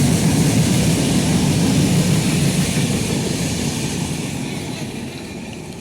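A passenger train rumbling past, a loud, steady low roar and clatter that slowly fades as it moves away.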